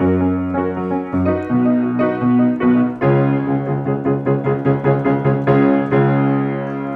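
A piano chord from a song is struck repeatedly in a steady rhythm, starting soft and growing louder with each strike, resonant and close with no voices.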